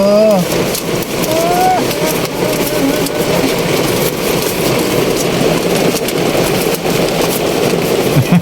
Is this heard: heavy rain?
yes